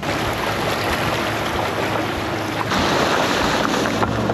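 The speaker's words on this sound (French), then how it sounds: "Il y a beaucoup d'eau, j'espère qu'on va passer sans patiner." A 4x4 van ploughs through a deep water puddle on a desert track in the Australian outback, with a steady loud wash and rush of water and splashing that swells partway through. No one speaks.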